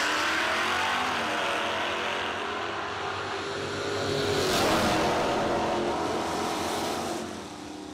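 Drag racing cars at the Bernie Mann Memorial No Delay Nationals hold loud, steady engine drone with throttle blips, swelling louder near the middle before easing off.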